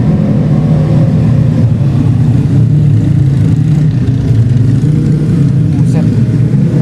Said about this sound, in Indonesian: Mungkin motor lagi geber lagi.